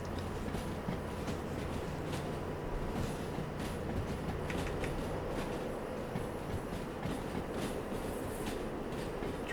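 A train in the Derail Valley game rolls steadily along the track in the rain, with a continuous low rumble and rhythmic clicking of wheels over rail joints throughout, with no speech.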